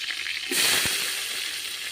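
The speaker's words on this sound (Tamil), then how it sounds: "இப்போ வெங்காயம்லாம் நல்லா வதங்கி வரட்டும்" Onions, green chilli and spices hit hot ghee with a sudden broadband sizzle that starts midway and holds steady, loud and close, with one brief thud as ingredients drop in.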